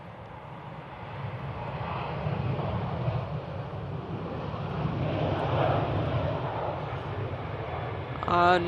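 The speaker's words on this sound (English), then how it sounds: "It's a Lufthansa A340 from Newark going to Munich." A Lufthansa Airbus A340 four-engine jet bound for Munich, passing at Manchester Airport. A broad, steady roar of jet engines swells toward the middle and then holds, with wind buffeting the microphone.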